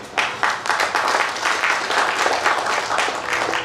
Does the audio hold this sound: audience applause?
yes